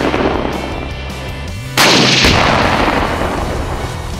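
A single tank cannon shot in an animated LEGO battle scene, a sudden loud boom after a low rumbling lead-in, followed by a long, dense roar of decay.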